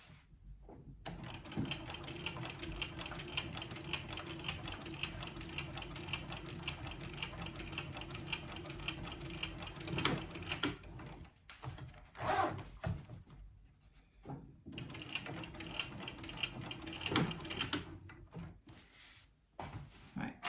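A domestic sewing machine runs top stitching at a 3.5 stitch length on a crossbody bag, a quiet steady whirring hum in long runs broken by brief stops and handling clicks.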